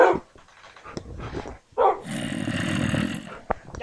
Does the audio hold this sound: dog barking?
yes